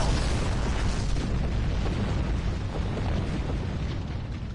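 Starship weapons fire and explosions in the space game Star Trek Online, a dense continuous roar of booms and blasts layered together at steady volume throughout.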